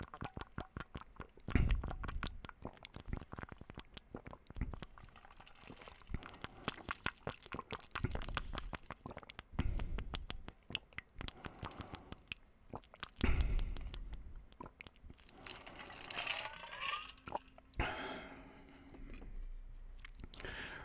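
Close-miked drinking of water during a keto mukbang with Bar-B-Q Mac's pork rinds, a quiet run of gulps, swallows and wet mouth sounds in irregular bursts.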